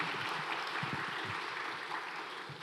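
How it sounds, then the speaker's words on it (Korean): A church congregation at a closing prayer service claps to welcome an elder, a soft, distant, even patter of many hands with faint low thumps beneath. "여러분 박수로 우리 장로님 환영하겠습니다."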